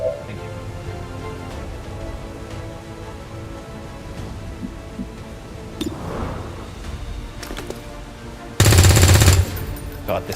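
Automatic gunfire from the XCOM 2 War of the Chosen video game, a burst of rapid shots erupting loudly near the end after a stretch of quieter game ambience with faint clicks.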